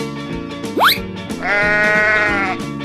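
A sheep gives a short rising cry, followed by a longer, loud, wavering bleat close by, with no voices.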